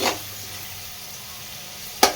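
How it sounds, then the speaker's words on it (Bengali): Potatoes fry in fish oil in a pan, a steady soft sizzle with a brief louder clatter of stirring near the end. "আলুটাকে 3-4 মিনিট মতো ভেজে নেব"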